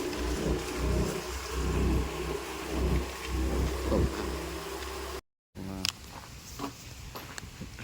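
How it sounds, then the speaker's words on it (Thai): Rain falls steadily outdoors at night near a parked car, a dense hiss with gusty rumbling swells, broken by a brief dropout before continuing with rattling and clatter. "ฝนก็ตกนะตกตก"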